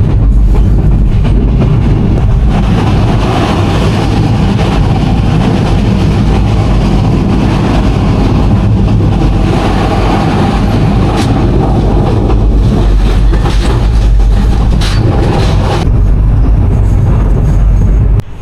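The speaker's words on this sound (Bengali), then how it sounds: "আমাদের ট্রেন এই মুহূর্তে অতিক্রম করছে মাস্তাননগর স্টেশন, এই স্টেশনটা আমাদের ট্রেন থ্রুপাস যাচ্ছে" Passenger train from Chittagong to Sylhet running through Mastannagar station without stopping, heard from on board: a loud, steady rumble and rattle of wheels and carriages with occasional clanks, continuous throughout.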